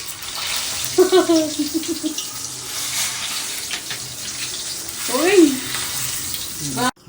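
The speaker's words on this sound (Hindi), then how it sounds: "अभी हम करने जा रहे हैं मिर्च फ्राई।" Chillies fry in a pan with a steady, close sizzling hiss, broken by a couple of short whistling tones. A voice is faintly present.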